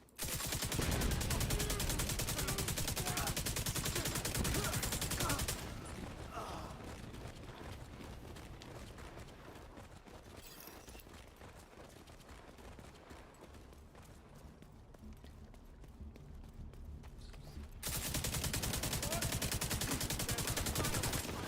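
An automatic pistol fires in The Division 2 in dense, rapid bursts for the first few seconds, then drops to a quieter, sparser stretch before the rapid fire returns just as strongly at the end.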